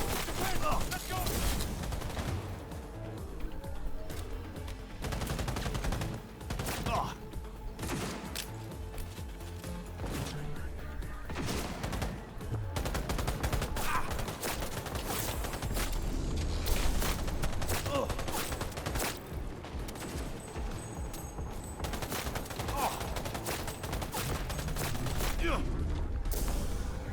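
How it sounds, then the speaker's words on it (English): Assault rifle fire in Cyberpunk 2077 rings out in loud, rapid, sustained bursts, mixed with mechanical weapon clatter and impacts, continuous across the whole stretch. "Could use some assault rifle action."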